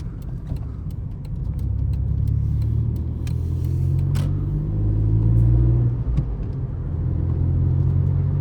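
Toyota Aygo engine running steadily while driving, a continuous low mid-frequency drone with road rumble and slight rises in revs, close and fairly loud throughout with no talking.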